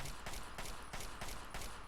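Sniper rifle fire in the video game Fallout 3: a rapid series of sharp, evenly spaced gunshot cracks, roughly five in under two seconds, loud and close with no talking.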